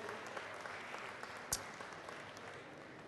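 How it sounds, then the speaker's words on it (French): Faint, distant audience applause at a winemakers' cooking contest in France, a soft continuous patter of clapping with one sharper knock partway through. "Vous pouvez les applaudir aussi,"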